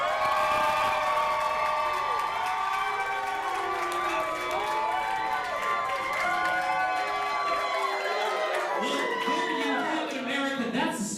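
Live crowd at a political rally cheering and whooping loudly and continuously, a dense roar of voices that fills the whole stretch, with a voice speaking over it near the end.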